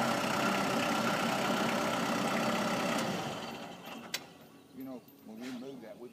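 A Kubota MX5100 tractor engine runs at a steady, loud idle during routine maintenance, then drops away as it shuts off, and voices talk briefly afterward.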